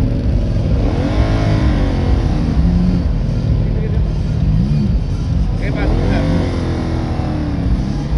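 A CFMoto NK 450 motorcycle on a test ride, its engine droning loud and continuous up close with wind rush, while someone talks over it in several bursts.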